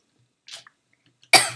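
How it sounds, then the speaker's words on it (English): A single sharp, close cough bursts out after a faint breath, with no talking. "I just have a little bit of a cough"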